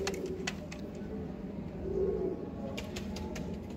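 Teddy pigeons released from a rooftop in Sialkot give soft, low cooing amid faint background noise, with a few brief clicks and flutters.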